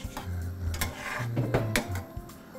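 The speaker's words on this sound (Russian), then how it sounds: "пошли закладывать все в кастрюлю" Ingredients for a grouse soup being loaded into a kitchen pot, heard as a string of close clinks, knocks and low thuds of food and utensils against the pot, with no talking.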